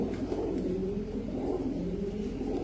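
Pigeons of fancy racing and flying breeds coo in a soft, continuous low murmur close by, with steady background hum and no talk.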